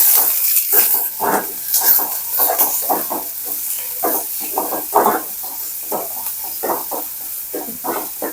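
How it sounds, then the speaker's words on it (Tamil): Onions sizzle and hiss in a pan for a prawn and okra curry, a steady close frying crackle with repeated stirring scrapes and no talk. "உப்பு நம்ம வெங்காயத்தில் சேர்க்கறதுனால சீக்கிரமாக வெங்காயம் வந்து சாஃப்ட் ஆகிட்டு நல்லா வதங்கி வந்துடும்."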